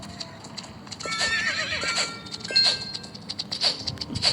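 A video game horse whinnies loudly, then hooves clip-clop in a quick rhythmic patter, close and clear with a few more whinny bursts toward the end.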